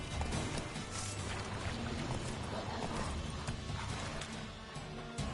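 A horse gallops in The Witcher 3: Wild Hunt video game, with steady rapid hoofbeats over a loud, dense layer of game music and ambience, continuous throughout.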